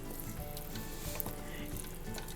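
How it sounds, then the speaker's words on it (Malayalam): Hot boiling water hits egg biryani masala in a pan, giving a soft, steady sizzle and bubbling throughout with faint stirring taps. "ഇതിലേക്ക് ഒരു കപ്പ് വെള്ളം ചേർത്ത് കൊടുക്കാം. തിളച്ച വെള്ളമാണേ, ചൂടുവെള്ളം."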